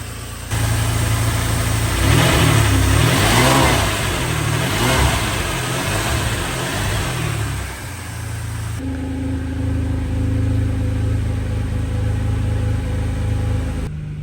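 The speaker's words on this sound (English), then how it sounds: "fired up the engine with my fingers firmly crossed" A rebuilt Ferrari 456 engine fires up and settles into a steady idle, with a few rising revs early on before it drops back to a smooth, even hum that runs close and alone.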